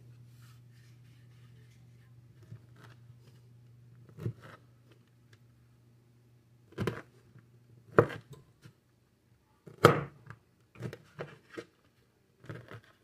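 A kitchen knife cuts food lengthwise for pie bars, with a handful of separate crisp strokes and taps spread out against a quiet background hum.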